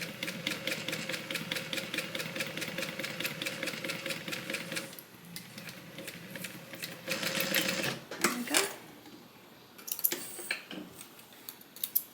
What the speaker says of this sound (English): And then we're gonna go ahead and top stitch this.